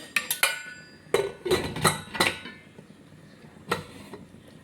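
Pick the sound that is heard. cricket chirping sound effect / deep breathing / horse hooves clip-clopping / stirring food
stirring food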